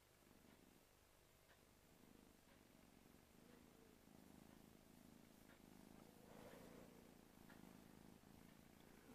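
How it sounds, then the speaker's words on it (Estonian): A young kitten purrs softly and steadily close by, a low rhythmic rumble that stays faint and quiet throughout with no talking. "Läksid küll nurrumise nootid nii lahti, et oi, oi, oi, oi."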